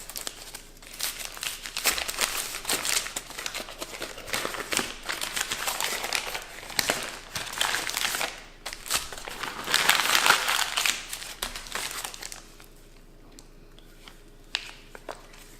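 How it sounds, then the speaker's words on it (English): A plastic package of frozen caribou burgers torn open by hand: continuous close crinkling and crackling of the wrapper for about twelve seconds, then a quieter stretch with a few isolated rustles. "Let's open this package up and see what we have."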